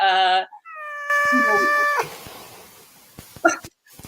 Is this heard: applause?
no